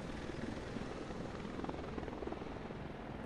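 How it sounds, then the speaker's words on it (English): Helicopter hovering over the dark zone in the video game The Division, a steady whirring rotor thrum with faint rhythmic chop, held at a moderate distance throughout. "Helicopter dropping off stuff in the dark zone"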